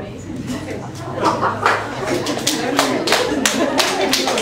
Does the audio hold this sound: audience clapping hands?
yes